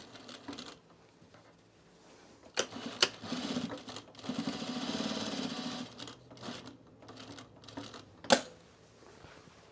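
Sewing machine stitching a trouser seam, with a short back stitch partway along the long side; several bursts of whirring stitching of varying length, fairly close, with sharp clicks between runs.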